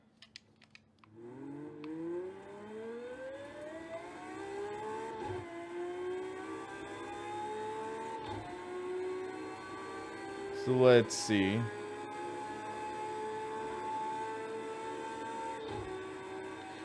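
A race car engine in the racing game Project CARS 2 revs and climbs steadily in pitch with a few gear-change dips and a brief harsh burst, while someone speaks briefly over it.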